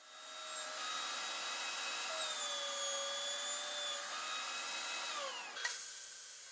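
A thickness planer runs on wood for an end grain cutting board, a loud steady motor whine with shifting tonal pitches that holds for several seconds before dropping off with a brief thump near the end.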